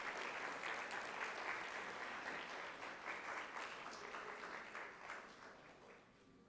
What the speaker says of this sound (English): Let's give a round of applause to these three great students.